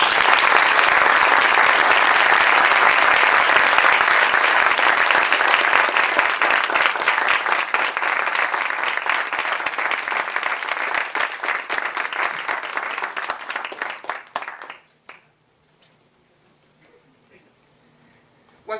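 A large audience at a community address applauds the local NAACP president in a dense, loud, sustained wash of clapping that thins and fades out after about fifteen seconds, leaving near silence.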